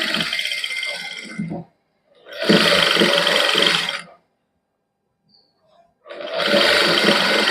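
Sewing machine stitching white lace onto palazzo pants runs in bursts of steady whirring, stopping briefly between runs, close and loud.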